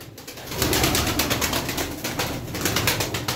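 Pigeons in a loft, including Iraqi and trumpeter-type birds, coo steadily and close by, with continuous soft calls and flutter layered over a dense background for the whole stretch.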